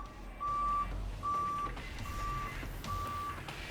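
A truck reversing alarm sends out four evenly spaced, sustained high beeps over a low background rumble, fairly close and steady, with no talking.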